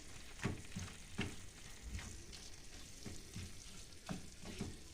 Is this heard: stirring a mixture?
yes